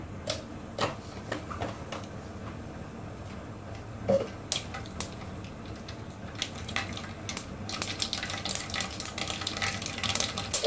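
Mustard seeds hit half a cup of hot oil for a Goan pomfret curry, giving a steady low sizzle with scattered sharp pops and crackles that grow busier toward the end, with no voices.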